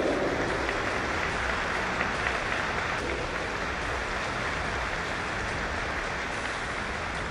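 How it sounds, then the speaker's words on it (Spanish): An audience at a police award ceremony applauds loudly and steadily, a thick, continuous roar of many hands clapping that holds at an even level throughout with no talk over it. "Fuerte el aplauso, por favor"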